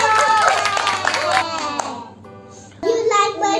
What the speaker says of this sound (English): Clap yourselves, guys.